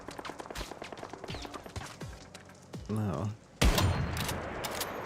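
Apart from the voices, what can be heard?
gunfire in the video game Once Human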